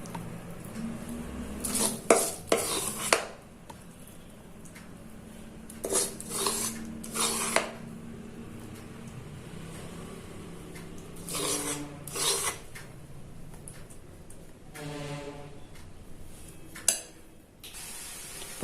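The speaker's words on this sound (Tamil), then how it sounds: "ஸோ இதை நல்லா கிளறிடலாம்." A ladle stirs melted jaggery into a badam pisin almond gum laddu mixture in a metal pan, producing close, raspy scraping strokes in irregular bursts, with some metallic clinks and quieter pauses between.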